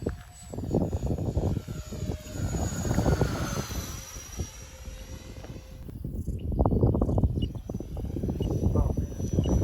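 A radio-controlled model plane flies in gusty crosswind, its small engine whining steadily and shifting in pitch as it passes, heard at moderate distance with occasional voices.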